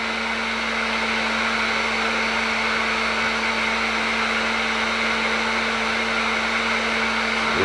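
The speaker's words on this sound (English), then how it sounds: "With this heat gun, you don't really have to worry about it getting hot enough to melt." A heat gun blows a steady, loud whirring hiss with a constant hum as it heats a fishing lure before the lure is dipped in powder paint. The sound is unbroken and close, with no talking.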